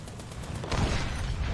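A 37mm tank gun fires in the War Thunder battle game, mid-distance blasts rising over a busy backdrop of combat noise, with a heavier burst of low booming about halfway through.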